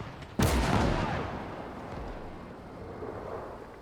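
Gunfire in the World War II game Gates of Hell, a single loud, close blast that slowly decays into a rumbling, echoing tail.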